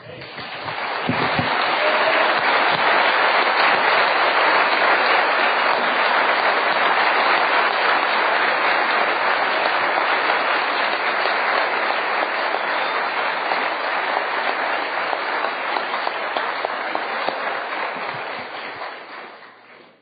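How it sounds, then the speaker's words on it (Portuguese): A church congregation breaks into loud, sustained applause that fills the room, a dense steady clatter of many hands holding strong before tapering off at the end. "Ei, vamos aplaudi-lo."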